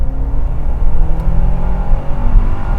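A 1993 Porsche 968 pulls flat out in second gear from low revs, its engine a deep, steady, close drone that builds gradually with no one speaking.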